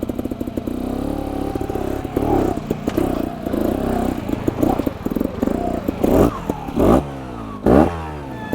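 A 2021 Beta EVO 300 trials motorcycle revs up close, its raspy two-stroke engine blipping and rising in repeated bursts, with sharp throttle surges toward the end.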